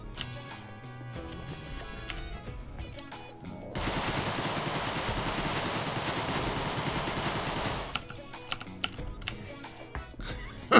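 A Tommy gun in the game Deadbolt fires a dense, unbroken rattling burst lasting about four seconds, loud and close, framed by quieter game sounds and music before and after.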